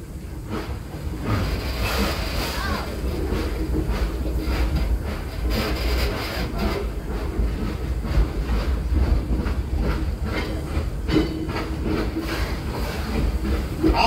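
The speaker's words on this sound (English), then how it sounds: "please stay seated on the trains in motion" A heritage train rumbles steadily along the rails at Greenfield Village, with a low continuous roar, occasional hissing and faint rhythmic clatter throughout.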